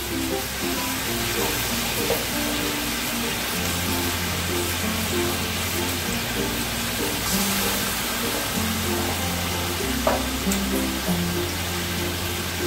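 Chicken marinated with salt and yogurt fries in a pan over a fully raised gas flame, giving a steady, dense sizzle throughout with a low tonal background underneath.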